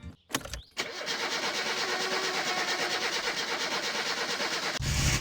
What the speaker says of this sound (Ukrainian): Зараз саме головне, чи заведеться машина.